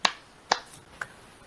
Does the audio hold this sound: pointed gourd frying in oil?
no